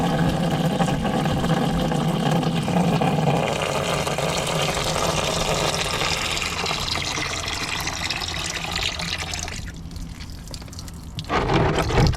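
Warm coolant drains out of a Honda Civic in a steady, close pour of splashing liquid that runs continuously, briefly thins out near the end, then surges again.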